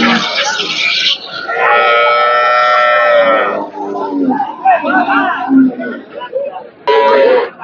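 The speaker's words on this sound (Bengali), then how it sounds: "হরজতপুর হাটে ইব্রাহিম ব্যাপারে দেখি গরু বিক্রি হলো কিনা" Sahiwal dairy cattle at the Hazratpur cattle market in Keraniganj give long, drawn-out lowing calls amid lively crowd chatter and people talking nearby.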